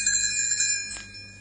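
A bright, sustained chime of small bells rings out clearly and close, shimmering briefly before fading away.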